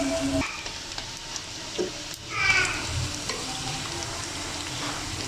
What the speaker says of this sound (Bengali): আমি এই পাশটাও লাল লাল করে ভেজে নিচ্ছি।